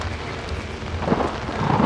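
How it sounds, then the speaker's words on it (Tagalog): Rain dripping and pattering in the horror game Outlast, a steady wet wash of drops with a few sharper splashes growing slightly louder toward the end, heard alone without voices. "tulo lang pala ng ulan"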